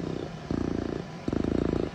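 A person imitates a cat purring by pushing air through the mouth, producing a fast, rattling, throaty buzz in two or three pulsing bursts, close and moderately loud, with no talking over it.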